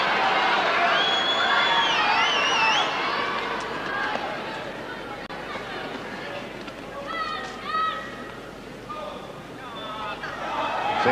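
A large tennis crowd at Wembley murmurs and chatters loudly throughout the 1981 final between Connors and McEnroe, with whistles and calls rising above the din while a voice speaks over it.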